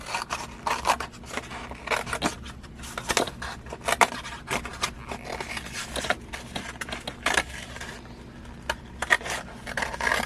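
Scissors snip and scrape through a paper plate while a mask template is trimmed, giving a steady run of close, crisp cuts and rustles with low background hum and no talk.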